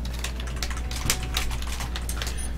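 Fast, continuous clicking of keys on a keyboard under a steady low background hum, with no one speaking.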